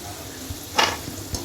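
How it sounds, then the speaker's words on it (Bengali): Peanuts frying in hot oil in a pan, cooked for a pumpkin chanachur snack mix. A soft, steady sizzle with one brief louder burst of crackle partway through, heard alone with no talking. "এখন ওই তেলে কয়েকটা বাদাম ভেজে নিব"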